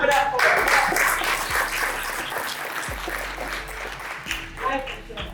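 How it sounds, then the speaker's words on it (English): An audience at a live seminar claps loudly, then the applause thins and fades. Low musical tones and voices run underneath. "Clap it up for her."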